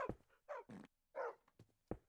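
A dog in the game Minecraft, played in the FTB Revelation modpack, barking in several short sharp yaps with pauses between them, fairly faint and clear with no talk.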